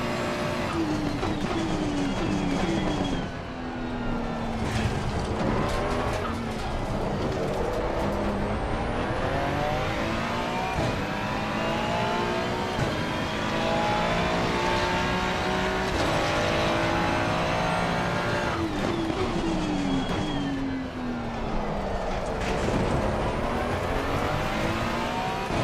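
A race car in a sim racing game lapping Spa-Francorchamps on low tyre pressures roars continuously, with engine pitch repeatedly climbing through the gears and dropping on downshifts. The sound is loud and close throughout, with no voices.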